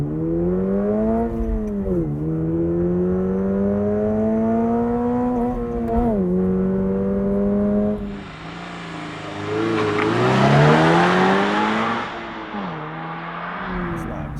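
A 2024 Subaru BRZ tS launches with a partial clutch dump and accelerates hard through the gears, its engine note rising steadily, dropping at each shift, then climbing again loud and close from inside the cabin.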